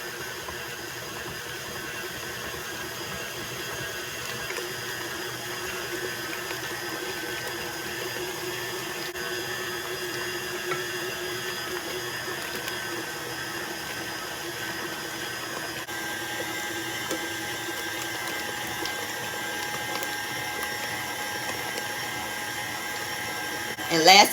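An electric mixer beats extra large eggs, one at a time, into butter and sugar for a 7UP pound cake. It gives a steady close motor whir throughout, ending in a brief clatter.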